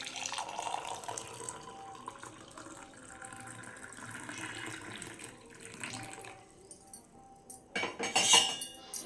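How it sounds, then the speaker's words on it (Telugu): Hot water runs and splashes into a glass with light clinks of glass, followed by a brighter burst of pouring near the end. "ఈ వేడి వాటర్ని మనం గ్లాస్లోకి తీసుకున్నాం"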